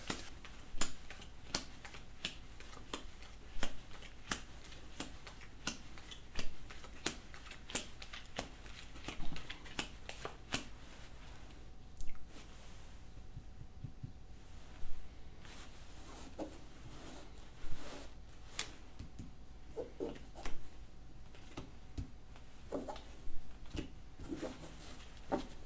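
Playing cards laid down one by one on a table during a card trick, producing soft, regular taps and flicks spaced about a second apart over a faint background, with no talking.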